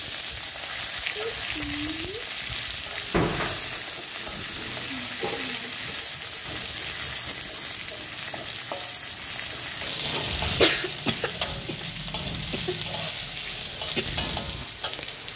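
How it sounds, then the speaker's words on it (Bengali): Onions fry with cumin seeds and dried red chillies in a pan, giving a continuous close sizzle with scattered spoon stirs and clicks throughout and no speech. "এর মধ্যে দিলাম গোটা জিরে, তারপরে দেবো পেঁয়াজ"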